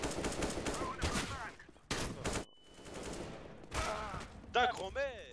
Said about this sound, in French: Tire à travers le bois.